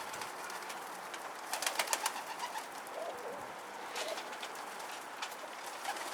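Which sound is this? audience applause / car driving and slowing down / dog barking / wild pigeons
wild pigeons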